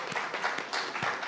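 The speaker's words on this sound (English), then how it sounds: "So a big applause to our youth and everything that you are doing" Brief burst of audience applause during a presentation on the Great Green Wall and land restoration: dense, fairly close clapping that swells and dips over about a second and a half, with no talk over it.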